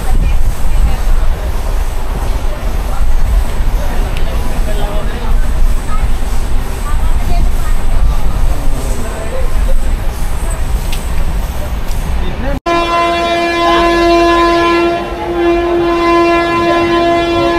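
A train running from Kozhikode to Goa rumbles steadily on its rails for a long stretch, then a loud sustained horn blares near the end, with a voice briefly audible.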